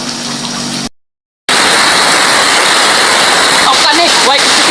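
Heavy rain pours down hard and close in a loud, dense, steady roar, broken by a brief dropout near the start; a voice talks faintly over the downpour.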